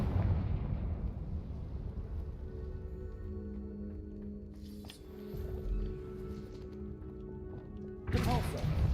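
A Confringo fire blast spell from a Harry Potter video game bursts out twice, a broad blast near the middle and another near the end, each rising over a steady, droning game music bed.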